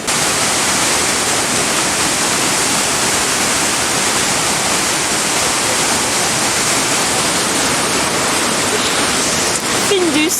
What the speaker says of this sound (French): Petite présentation de la cascade du Hérisson.